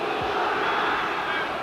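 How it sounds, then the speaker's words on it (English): Rugby crowd cheering at a stadium in Buenos Aires during an Argentina versus South Africa test match, a sustained loud roar of many voices, distant and washed together. "Look at that crowd celebrating"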